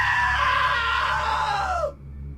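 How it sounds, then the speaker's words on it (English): A loud, sustained scream from a character in the video game What Remains of Edith Finch, rising and holding for nearly two seconds before cutting off abruptly into a quiet background hum. "Now that was a great scream."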